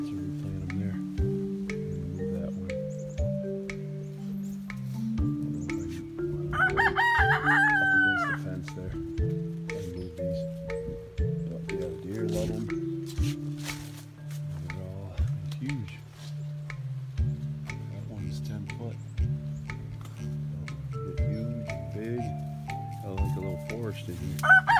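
Chickens cluck in short, close calls around a garden, with a rooster's crow rising briefly among them while someone talks over much of it.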